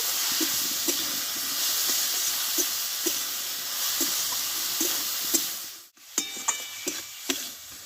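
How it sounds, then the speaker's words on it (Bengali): Shredded cabbage fries in oil, sprinkled with turmeric and a little sugar, giving a constant soft sizzle with light spoon taps; near the end the noise briefly cuts out, then resumes with clattering stirs. "ভালোভাবে কপিটা আমি চার থেকে পাঁচ মিনিট মতো তেলে কষে নেব"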